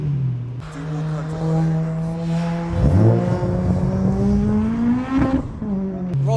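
A supercharged Honda Civic Type R EP3 engine, about 400 bhp, revs hard with a raspy, rising whine, climbing and falling in pitch through two long pulls, loud and close.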